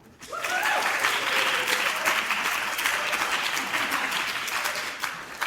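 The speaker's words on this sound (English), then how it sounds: "Yes, go ahead and clap." Audience at an opera company event breaks into applause for an intern and assistant director, clapping rising quickly to a steady, full burst that holds for about five seconds, with a voice briefly heard at the start.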